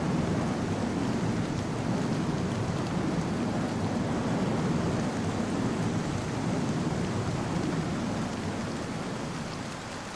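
Steady rain with a low thunder rumble in the flight sim Strike Fighters 2, a dense continuous wash of rainfall that holds at an even loudness and eases slightly at the end, with no talking.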